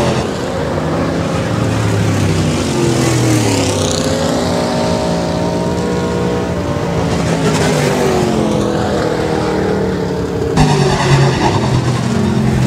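B-Modified race cars finishing a heat race at Rapid Speedway, engines roaring loud and steady throughout, with rising and falling pitch as the cars pass and accelerate.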